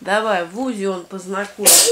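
A sneeze bursts out sharply near the end, coming right after a child's clearly spoken line during a home reading practice.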